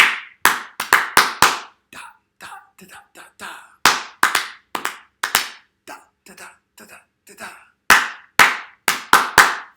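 Hands clap out a series of short rhythmic patterns for a clap-back game, loud crisp bursts of several claps separated by softer, quieter clapping passages.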